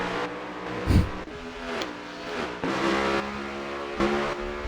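Race cars in the ODRL Premier series at New Hampshire, a pack battling for fourth place: engines rev and whine through gear changes, with a louder close pass and a low thump near the start, continuous and loud with no talking.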